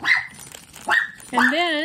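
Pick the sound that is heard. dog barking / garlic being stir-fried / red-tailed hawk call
dog barking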